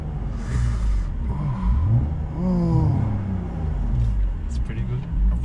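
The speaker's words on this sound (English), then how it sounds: "let me just shut up for a bit and let me just hear the engine." A 25-year-old BMW E36 engine runs steadily while driving, a continuous low rumble rising in pitch as it accelerates through gears, with speech faint or absent over it.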